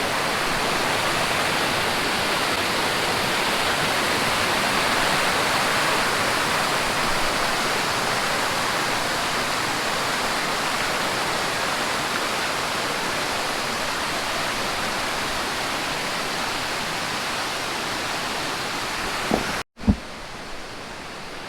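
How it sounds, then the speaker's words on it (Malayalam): Aadyanpara waterfall in Malappuram, Kerala, roars in a continuous, dense rush of water, loud and unchanging, ending with a short knock and a slight drop. "അവിടുന്നുള്ള വെള്ളം ഇങ്ങനെ ഇറങ്ങി വന്നിട്ട് അവിടുന്ന് വന്നിട്ട് ഇങ്ങനെ പോയിക്കൊണ്ടിരിക്കുകയാണ്"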